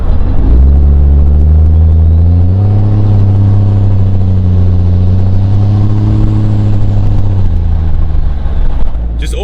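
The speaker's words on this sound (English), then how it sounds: "the sounds coming from the Cummins are just completely different and more deep, gurgly than my truck" A Cummins diesel truck engine revs loud and close, deep and gurgly, its pitch climbing and holding steady while the turbo whistles over the top for several seconds before the revs drop away.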